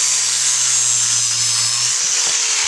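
Power grinder trimming a horse's hoof wall during a natural barefoot trim, a loud steady high-pitched grinding whine with a low motor hum that drops away partway through, no talking.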